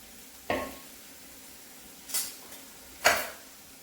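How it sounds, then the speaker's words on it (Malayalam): Fish frying in a pan, a low steady background hiss marked by three separate bursts of sharp spattering sizzle, close and moderately loud, with no talk. "നമുക്ക് നമ്മുടെ മീന് വറുക്കാൻ ഇട്ട് കൊടുക്കാം"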